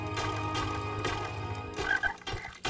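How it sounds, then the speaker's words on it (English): Frogs croak in the NOX video game, a dense, steady chorus of overlapping low calls that fills the scene continuously, with a louder burst near the end and no talking. "What is up with all of the frogs?"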